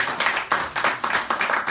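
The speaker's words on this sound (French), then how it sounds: "Applaudissez-le, applaudissez-le, applaudissez-le." A church congregation applauds a pastor, with loud, close, rhythmic clapping in regular bursts roughly every third of a second, heard alone with no talking.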